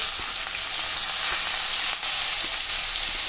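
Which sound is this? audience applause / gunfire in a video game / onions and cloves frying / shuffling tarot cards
onions and cloves frying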